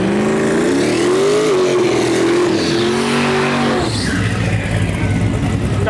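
No prep drag race cars in the Gangster class launch at a Western Canada shootout, a loud engine roar that climbs in pitch, then drops away as tires squeal and the cars pull off.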